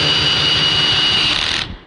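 A power drill drives a screw into bookshelf pieces, giving a loud, steady whirring buzz that holds for about a second and a half before the motor stops and fades out.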